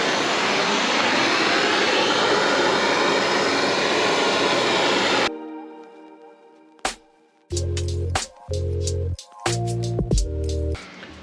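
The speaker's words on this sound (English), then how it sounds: "a MAP gas blowtorch type plumber's thing like this" A MAP gas blowtorch of the plumber's type runs with a loud, steady roaring hiss for about five seconds, then cuts off, leaving quiet followed by a few short, separate tonal bursts.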